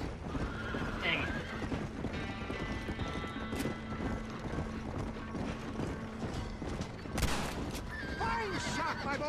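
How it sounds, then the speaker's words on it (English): A horse whinnies and its hooves clop in Red Dead Redemption, set against game ambience and thuds, while a player talks over the sounds throughout. "That's a horse."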